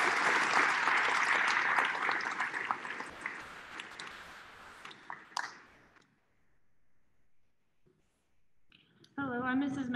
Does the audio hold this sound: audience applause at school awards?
yes